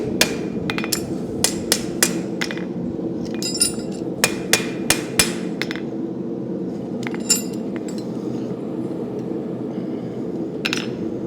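A farrier's hammer rings on a steel horseshoe during cold shaping to fit an uneven hoof, with irregular bursts of sharp metallic strikes over a steady low hum, close and clear.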